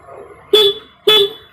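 Two short honks from a Honda Beat FI scooter's horn, pressed to test the battery, each blast lasting about a quarter second with a pause between, loud and close with no other sounds.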